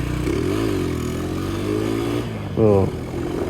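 A Honda Tiger motorcycle accelerates along a road with a loud engine note rising and falling through gear changes, and a brief sharper rev near the end, while a voice talks over it.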